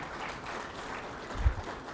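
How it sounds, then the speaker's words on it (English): Audience applause at a live conclave in New Delhi, a steady broadband clapping sustained through the whole stretch at moderate level, with a slight swell near the end. "please join me in applauding Mr. Prem Singh Tawang for his achievements"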